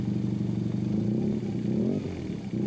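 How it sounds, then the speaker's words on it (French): A BMW 900 rally motorcycle at the Dubai UAE Desert Challenge 2000 idles with a steady, low, rumbling engine note that carries on throughout. "l'Espagnol Roma, fait ronronner le moteur de sa BMW 900"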